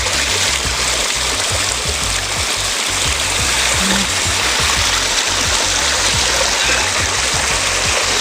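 A stream of water runs along a hiking trail on Ilha Grande, a steady, loud, close rushing and splashing that fills the whole stretch with no break.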